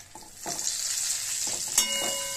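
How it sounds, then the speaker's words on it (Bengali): Spice masala frying with boiled potato added in a pan, a soft steady sizzle with a few stirring scrapes and a brief clink. "সেদ্ধ আলুটা দিয়ে ভালো করে ভেজে নেবো"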